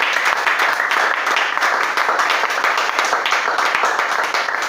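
A church congregation applauds and cheers for the Lord Jesus during a worship service, with dense, steady clapping that stays loud and continuous throughout.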